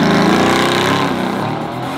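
A Lamborghini Aventador engine is revved hard inside a tunnel at a supercar rally, giving a loud, steady, reverberant drone that eases slightly toward the end, with no talk over it.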